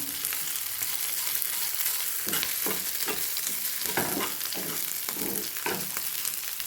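Vegetables fry in a pan for Chinese noodles, a continuous close sizzle broken by rhythmic scraping strokes of a spatula during the second half.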